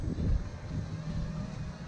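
Low rumbling gusts buffet the microphone while walking outdoors with a DJI Ryze Tello drone, a dull muffled roar that swells briefly and then settles into a steady wind noise.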